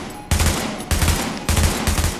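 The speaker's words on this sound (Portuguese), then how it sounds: "Testando aqui a AUG, ela já com as modificações." Modified AUG rifle firing in The Division, three close, loud bursts of rapid automatic fire separated by short pauses.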